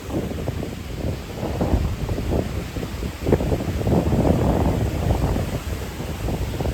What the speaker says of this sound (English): It's pretty windy out too.